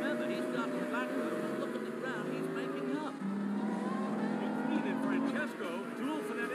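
Race cars roaring off the start line in an animated race, overlapping engine whines rising and shifting pitch as they speed away, loud and continuous under a commentator talking.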